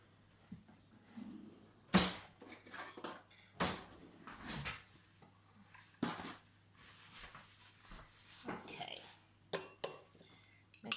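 A fork clinks against a bowl while eggs are beaten, giving a handful of sharp, irregular taps and scrapes close by with quiet pauses between them.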